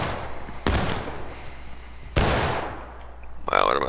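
Two sharp rifle volleys ring out in a Civil War battle in the War of Rights video game, each a loud crack with a fading echo, about a second and a half apart, over quiet ambience.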